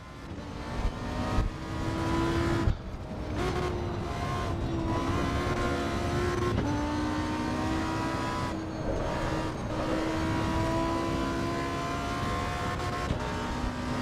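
Race car engines roar around the Nürburgring in Assetto Corsa EVO, a continuous loud engine note rising through the gears with sharp drops at each shift, several cars close together, no talking over it.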